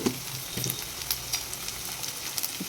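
Onion and green chilli fry in a pan with a steady crackling sizzle, stirred now and then so the spoon scrapes and clinks in short bursts. Nobody talks.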